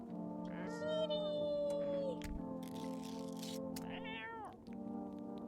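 A cartoonish video game cat meows repeatedly in drawn-out, rising mews over a steady low background hum, loud and close, with a brief pause near the end before the hum resumes.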